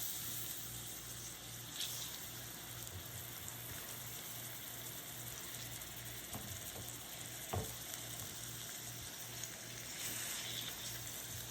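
Chicken sizzles in olive oil on a small griddle pan, a steady close crackling hiss with occasional sharper pops and no voices.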